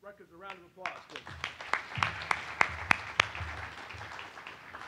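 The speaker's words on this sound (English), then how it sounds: "Please give Rutgers a round of applause, please." At a domestic violence panel conference, a voice trails off and scattered clapping starts in honor of Rutgers. The claps build into a handful of crisp, nearby hits over a low room murmur, then fade.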